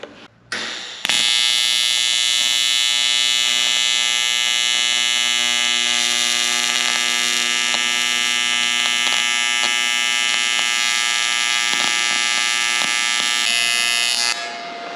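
A welder joins an aluminum steering column piece with a loud, steady electric buzz that holds for about thirteen seconds before cutting off.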